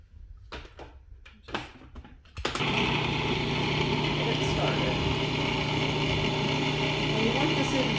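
A food processor grinds mushrooms, garlic and onion, starting with a few short pulses and then running as a loud, steady motor whir close by.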